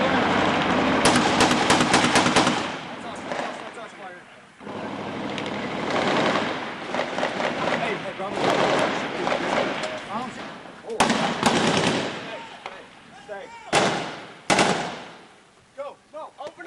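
Gunfire as Marines fight insurgents in Ramadi, Iraq: loud, dense bursts of shots and cracks that come and go across the clip, with shouting voices mixed in among the firing.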